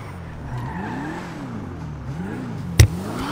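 A car engine revving in the video game GTA 5, a steady drone rising and falling in pitch in waves, with a sharp brief knock near the end.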